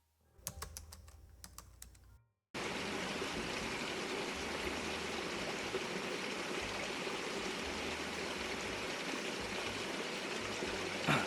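Spring water feeding a trout stream flows in a steady, close, full rush that continues without a break, after a couple of seconds of quieter clicking and handling sounds.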